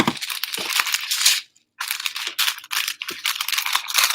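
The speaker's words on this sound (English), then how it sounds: "Now you get to hear a bunch of crackling and crinkling." Close-up crinkling and crackling of crumpled material in irregular bursts, with a short silent pause midway before the rustling resumes.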